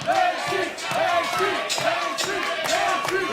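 Spectators at a Boca Raton Championship Wrestling event cheer and shout in a loud, continuous roar, with rhythmic chanting swells and a commentator's voice running over the noise.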